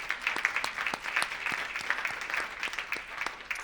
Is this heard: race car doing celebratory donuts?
no